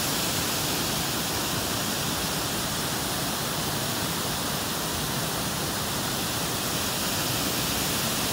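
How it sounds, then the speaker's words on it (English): A small waterfall on a wilderness creek at Blanchard Springs near Mountain View, Arkansas, giving a steady, dense rushing roar that stays loud and even throughout, with no voices. "Nice little waterfall."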